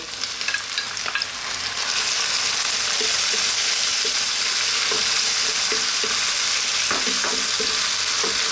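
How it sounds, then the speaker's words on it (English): Fresh ripe tomatoes hit a hot spiced pan for fish curry, bursting into a loud, steady sizzle that continues throughout, with occasional scrapes of stirring. "We're now going to drop in our tomatoes."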